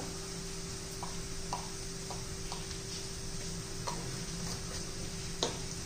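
Asafoetida added to hot oil for a black chana masala, a steady close sizzle with soft ticking taps of a spoon against the pan.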